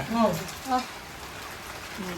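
A continuous hiss of falling rain fills the background while a voice briefly sounds at the start.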